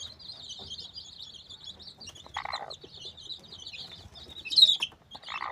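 Tiny newly hatched chicks peep in high, rapid bursts near a broody hen, with a brief cluck, a short flutter of wings and a louder squeak near the end.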